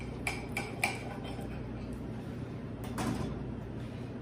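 Knife cutting into a cooked chicken quarter, with a few sharp clicks of the blade against the plate early on, a quiet stretch, then one more tap near the end.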